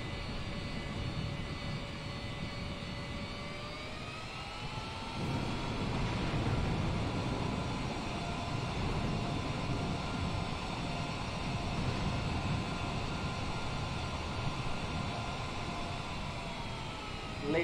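Airplane engine drone heard from inside the aircraft on approach to Miami International Airport, a steady broadband roar with sustained tonal whine that shifts pitch partway through and swells slightly louder, continuous for the whole span.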